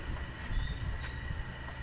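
A wheel rim pressing tool is rotated along a rail, giving a continuous metallic grinding rumble with high squealing tones over a heavy low drone, close and steady, with no talk.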